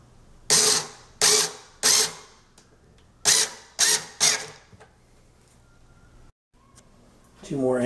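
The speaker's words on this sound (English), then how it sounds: "this is where your cordless screwdriver will come in handy" A cordless screwdriver drives a screw while a drawer unit is assembled, with six short whirring bursts in quick succession at close range, then a pause and a voice speaking.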